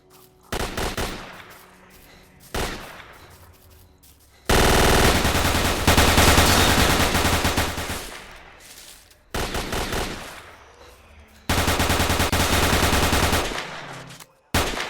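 Heavy automatic gunfire from STALKER Call of Pripyat comes in long, dense bursts with short gaps, loud and close, with scattered single shots between the sustained volleys.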